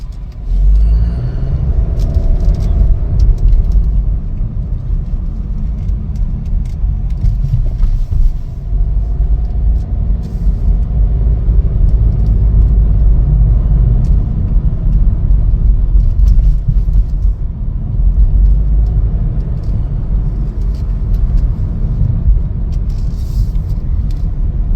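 A 2023 Chevrolet Trailblazer Activ on the road, heard from inside as a steady low engine and road rumble. The drone is continuous and fairly loud throughout, with faint rattles and no talking.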